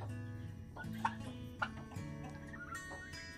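Bourbon Red turkeys cluck and chatter in a backyard pen, a steady overlapping murmur of soft calls with two brief sharper notes standing out, fairly quiet and with no talking.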